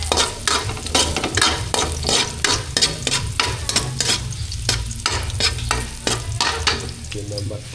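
Chicken and tomatoes frying in a pan for kinamatisang manok, a spatula scraping in a quick steady rhythm of repeated strokes over a continuous loud sizzle, close up with no talking.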